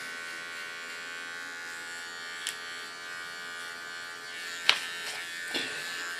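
An electric hair clipper cleans the contour line of an ultra-short pixie haircut, giving a steady close buzz that runs alone throughout, broken by a few brief clicks and taps near the end.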